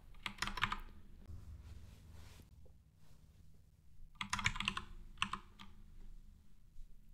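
Computer keyboard typing while writing code for a language server, two bursts of brisk close keystrokes separated by a quiet pause, with no voice.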